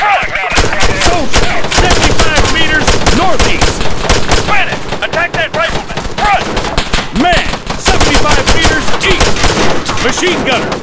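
Rapid machine gun and rifle bursts from an Arma 3 firefight ring out loud and close, dense volleys running almost continuously through the clip with brief gaps.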